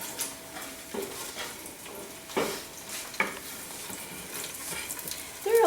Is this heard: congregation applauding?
no